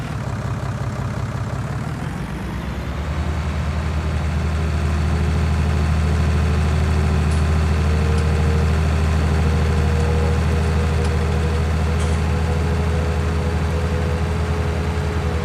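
A tractor engine on a farm runs loud and close in a deep, steady throb, its pitch rising slightly after a couple of seconds before holding an even idle with a faint higher whine.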